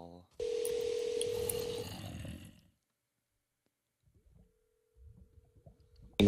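A phone call placed on speakerphone: a loud tone sounds, then a long sustained dial tone, faint scattered noises, and a short burst at the end.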